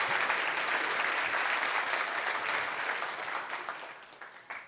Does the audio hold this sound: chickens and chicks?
no